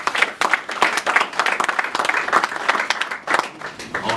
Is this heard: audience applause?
yes